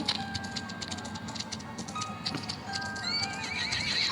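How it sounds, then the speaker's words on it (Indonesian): A horse in a video game clip-clops along at a steady gait and lets out a whinny near the end, set against faint ambient background sound. "Dan akhirnya aku bertemu kuda satu ini"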